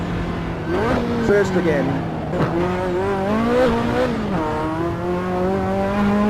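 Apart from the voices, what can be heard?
Ferrari F40 engine at high RPM in Assetto Corsa video game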